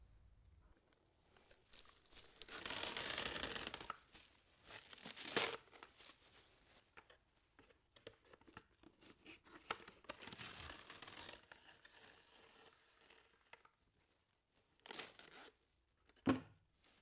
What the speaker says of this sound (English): Get rid of the first 2 turns of film and then apply it lengthways over the burn.